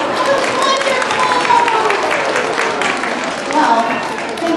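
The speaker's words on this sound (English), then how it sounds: "Clap for yourself" Audience applause from a crowd at a princess-themed meet-and-greet event, a continuous dense patter of clapping throughout, with voices and cheering mixed in.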